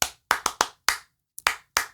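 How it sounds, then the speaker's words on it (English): A single person claps a rhythmic signal pattern in a classroom setting, a handful of crisp, close, isolated hand claps with short silent gaps, including a quick pair and a brief pause before the final claps. "You can do a clap signal where they're going to have to emulate your clap."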